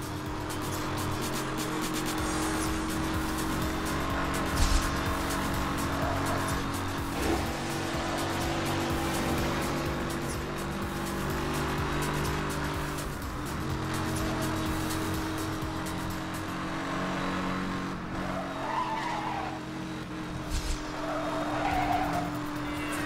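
Race cars roar through a Need for Speed Hot Pursuit race, with sustained engine drone and repeated tire squeals and skids over a dense, continuous mix, no talking.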